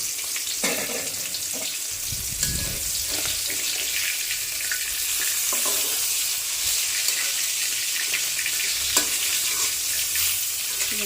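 Fish frying in a pan gives a steady crackling sizzle throughout, with a few scrapes and knocks of utensils and what may be running water mixed in, no speech.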